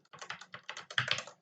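Fingers type on a computer keyboard while entering router configuration commands, a quick close run of crisp key clicks in an uneven rhythm with short pauses.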